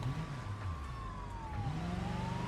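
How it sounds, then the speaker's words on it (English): A police siren wails from a distance in a driving game, its pitch slowly sweeping up and down over a low continuous car engine hum, fairly faint with no talking. "I hear sirens."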